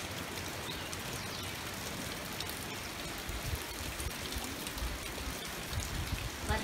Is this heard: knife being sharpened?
no